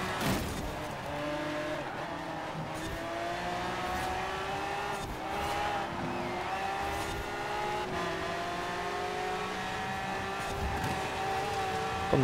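A car in the racing game Forza Horizon 4 accelerates steadily, its engine note climbing through rising harmonics while tires hiss across the surface. The sound is continuous and moderately loud, with no talking.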